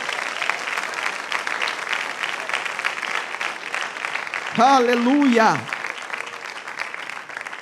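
A church congregation applauds in a loud, steady wash of clapping, while a voice rises over it briefly with a drawn-out exclamation.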